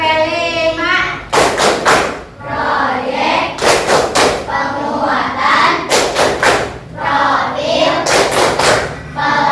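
Children in a classroom clap out a rhythmic tepuk kalimat game, several bursts of loud group clapping with chanting voices between them and a teacher talking.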